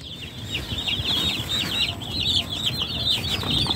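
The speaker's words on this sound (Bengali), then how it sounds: "এই যে আমার মুরগি," A flock of about fifty two-day-old chicks in a small coop cheep constantly in a dense chorus of high peeps, close and continuous.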